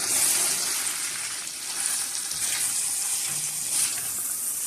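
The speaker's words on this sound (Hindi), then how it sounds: "तो आप इसको भूनते रहें।" Mutton chops cooking with a dried fruit and almond paste in a pan, a close, steady sizzle and crackle of frying with faint stirring scrapes throughout.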